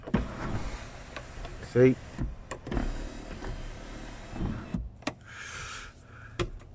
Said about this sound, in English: Tilt slide glass electric sunroof with retractable sun blind.